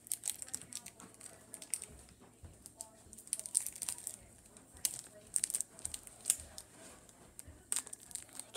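Cheese being peeled apart while cooking with kids, giving soft crinkly tearing and ripping noises in short quiet bursts, with faint voices now and then.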